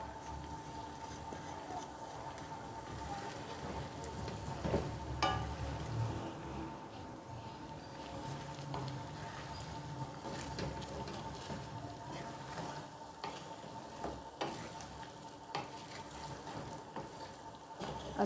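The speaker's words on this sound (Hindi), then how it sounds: "दो मिनट इसको ऑयल में भूनने के बाद" Chicken frying in oil in a pan for Peshawari charsi karahi, a soft, steady sizzle with occasional stirring scrapes, fairly quiet and continuous with no talking.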